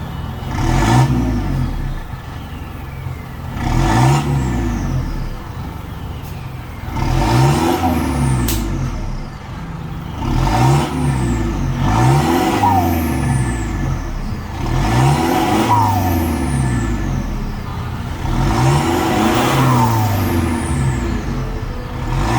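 A Mitsubishi Pajero with a newly fitted exhaust revs repeatedly, about seven rising-and-falling throttle blips in steady rhythm, loud and close with a deep rumbling tone and no talking.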